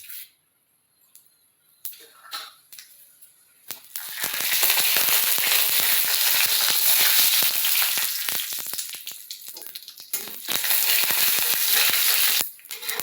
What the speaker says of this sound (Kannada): ಈಗ ಎಣ್ಣೆ ಹಾಕಿ ಉದ್ದಿನ ಬೇಳೆ ಹಾಕನ್ರಿ ಒಂದು ಸ್ವಲ್ಪ.